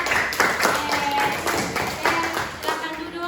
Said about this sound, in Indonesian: tepuk tangan untuk kelompok 4